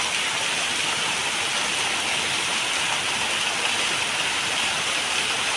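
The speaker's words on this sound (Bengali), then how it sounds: "দেখো বৃষ্টি পড়ছে।" Rain falls into a pond, producing a dense, loud and steady hiss of droplets that continues evenly throughout without any pauses.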